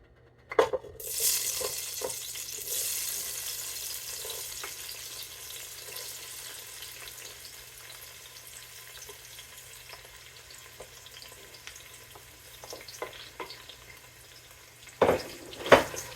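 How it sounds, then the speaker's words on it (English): Seasonings, celery and onion fry in a soup pot with a steady soft sizzle, broken by occasional spoon clinks against the pot and a louder clatter near the end. "So you fry up your seasonings, your celery and your onion."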